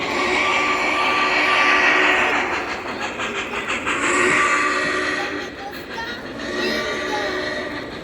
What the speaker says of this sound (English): your train is coming. Watch out.